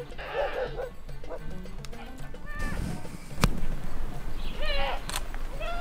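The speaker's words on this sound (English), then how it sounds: "I can hear a dog as well." Dog barking on a hiking path in Morocco's Atlas Mountains near a Berber village, repeated yips and barks at mid distance over outdoor ambience, with brief voices in the background.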